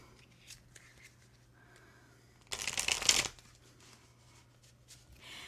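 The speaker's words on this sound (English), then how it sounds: "let me pull a card for you, Ondine." Tarot cards get a single quick shuffle, a crisp, close burst of riffling lasting under a second amid otherwise quiet room tone.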